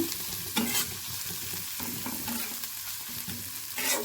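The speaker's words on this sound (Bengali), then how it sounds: "আমি খুব অল্প তেল দিয়ে দিলাম পেঁয়াজটাকে আমি ভেজে নেব।" Onions frying in a little oil in a wok, a soft continuous sizzle with occasional stirring scrapes and clinks, close and fairly quiet, no voices.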